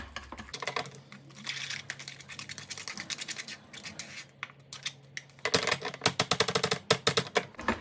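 A whisk clicks and scrapes rapidly against a bowl while mixing deviled egg filling, in fast irregular bursts with a short pause midway.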